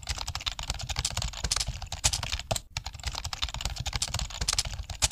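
Rapid clicking of a computer keyboard as a website address is typed, close and fairly quiet, a dense run of keystrokes with a brief pause midway.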